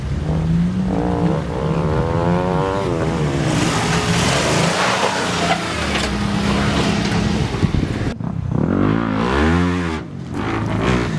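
An off-road Jeep or truck on a park trail, its engine revving loud and close with rising and falling pitch as the throttle is worked in bursts.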